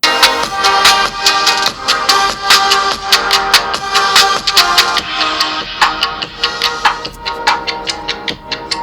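Music plays through the built-in speakers of a TECNO Camon 40 Premier 5G phone, a loud, steady beat with crisp percussive hits repeating throughout, heard alone.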